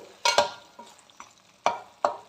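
Chicken masala is stirred in a pan, a spoon scraping the thick mixture in a few sharp strokes with quiet gaps between them, close by.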